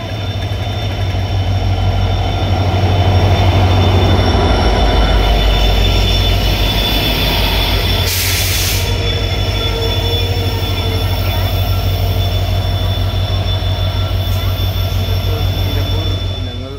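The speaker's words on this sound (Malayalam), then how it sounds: "നമ്മുടെ നിലമ്പൂർ ഷൊർണൂർ ട്രെയിൻ പോകുന്നുണ്ട്" The Nilambur–Shoranur passenger train rolls past near a railway station in the evening, a loud continuous rumble of wheels and carriages with squealing rail noise, close by and sustained for the whole stretch.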